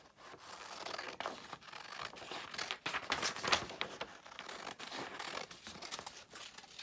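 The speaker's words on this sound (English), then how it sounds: "So I'm gonna cut just the bottom one out." Scissors cut a strip off paper for affirmation bracelets, making close, crisp snips and crinkling paper rustle in an irregular series, with no talking.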